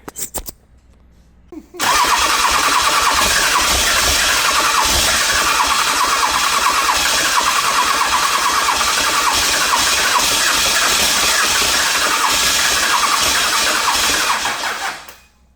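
A Cummins diesel engine with a newly fitted starter and second-gen adapter plate cranks loudly and continuously for about thirteen seconds at close range without catching, then winds down, with no talking.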